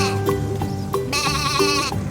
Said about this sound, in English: What does the sheep say? Sheep says, "Baa."